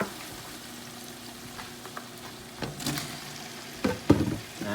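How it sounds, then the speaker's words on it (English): Beef biryani masala frying in a pot as potatoes go in, with a faint steady sizzle and a few louder clatters and stirring knocks toward the end. "Now we're gonna add the potatoes."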